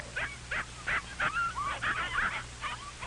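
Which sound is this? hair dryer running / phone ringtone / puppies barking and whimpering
puppies barking and whimpering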